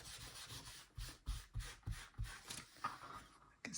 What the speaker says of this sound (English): I will give it a good rub.